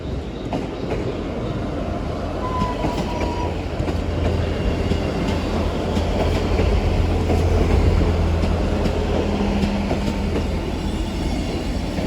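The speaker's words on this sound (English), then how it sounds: "coming in now will be a Great Western Railway service to Barnstable. With my follower, the 158959 coming in" Great Western Railway Class 158 diesel unit 158959 pulling into Exeter St Davids station, a steady close rumble and rolling hum that swells slightly as it nears, with light wheel noise and faint squeal, no voices.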